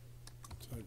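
Someone types on a computer keyboard with a few sparse, faint clicks scattered over a low steady hum, recorded at low level with no clear talking.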